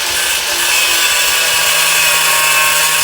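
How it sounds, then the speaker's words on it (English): An angle grinder cutting through the steel front axle of a racing lawn mower, a loud, harsh, unbroken high-pitched grinding screech held close for the whole three seconds. "I'm gonna cut this top part off right here with the angle grinders"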